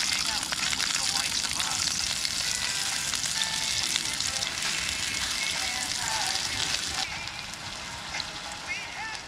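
Sausages sizzle and spit steadily in a pan at a wild camp breakfast, a loud, dense frying hiss that runs the whole time and eases slightly near the end, with faint voices underneath.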